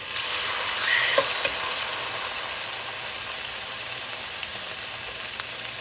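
Pork searing in a very hot cast iron pan, a steady close sizzle with a few faint clicks and pops and no talk.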